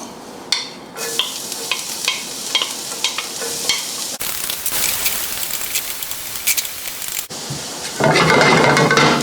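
Chopped garlic sizzles and fries in a pan, a crackling hiss broken by intermittent stirring scrapes and clinks, growing louder near the end.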